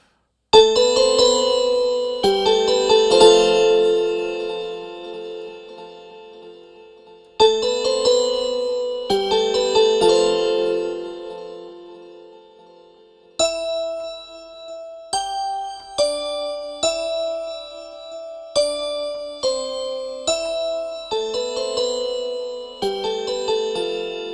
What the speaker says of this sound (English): this sound of bells, you know, it's a high frequency situation